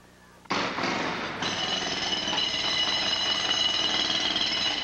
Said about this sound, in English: Not even the sound of a jackhammer wakes them up.